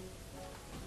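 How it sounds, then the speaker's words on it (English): Steady, soft rain hiss from the Dwarf Fortress video game, a faint even wash of falling drops lasting under a second with no talk. "Stupid rain."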